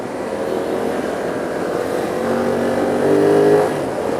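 A BMW F 900 R motorcycle engine hums steadily while riding through Mumbai traffic, a close continuous drone that rises into a brief louder rev near the end.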